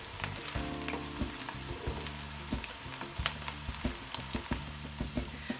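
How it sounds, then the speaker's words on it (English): Onions frying and softening in a pan for a chicken karahi, with a steady close sizzle that keeps going and occasional stirring scrapes and clicks, with no talk. "once it's starting to get a bit of colour on the onions and they're softening down"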